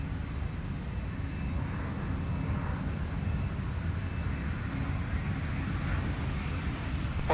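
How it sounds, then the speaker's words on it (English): Delta A350 widebody airliner arriving from Seoul at Minneapolis airport, a steady, broad jet engine roar holding at an even level throughout, somewhat distant, with no talk over it. "right behind them, we've got Delta 170 Heavy from Seoul, South Korea, with a big A350."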